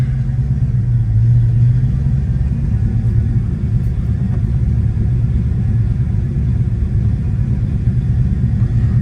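A 1990 Ford Mustang GT engine running steadily in first gear, a loud constant low rumble close to the microphone, no talking.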